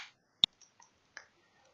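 A single sharp mouse click stands out near the start, followed by a few fainter soft ticks in an otherwise quiet room during a software tutorial.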